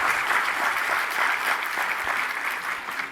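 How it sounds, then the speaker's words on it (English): Audience applause at a Digital CPA keynote conference, a dense steady wash of clapping from a large crowd, loud and sustained throughout with no talk over it. "Let's big round of applause for Aaron."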